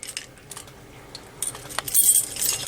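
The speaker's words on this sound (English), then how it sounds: "Where is my Firelight key? I have a lot of keys on this thing." A large bunch of keys on a ring jangles and clinks in bursts while someone searches for a fire alarm reset key during a system test, with the busiest, loudest rattling toward the end.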